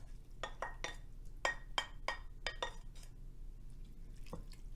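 Clams tipped into a pot of Manhattan clam chowder in an Instant Pot, giving a run of sharp clinks and wet drips in irregular clusters, fairly close, then a lone tap near the end against a low steady hum.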